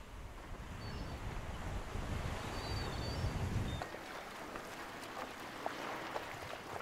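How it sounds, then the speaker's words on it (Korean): Surf rolls onto a Caribbean beach of white crushed-coral sand, a steady wash of breaking waves with wind rumble across the microphone, continuous and moderately distant with no voices. "파도 소리만 해변을 채운다"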